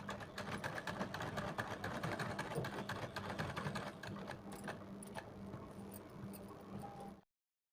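A household sewing machine stitching a suit sleeve design at slow speed, giving a steady, close mechanical whirr and clatter that runs continuously for about seven seconds before cutting off abruptly.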